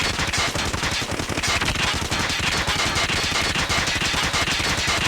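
Rapid automatic gunfire from a weapon in Call of Duty: Black Ops 4, loud and continuous, with dense bursts of shots and no speech.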